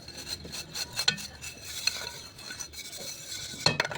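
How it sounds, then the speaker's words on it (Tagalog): A pot lid being washed for cooking rice, with soft stirring water sounds and a few light metallic clinks scattered throughout, close and fairly quiet. "Siyempre, huhugasan mo din yung takip."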